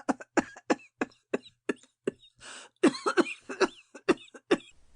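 A woman's prolonged fit of harsh coughing in a dramatic reading of a Dostoyevsky novel, rapid hacking bursts in quick succession with a brief wheezing gasp midway, close and loud, performed by a voice imitating it.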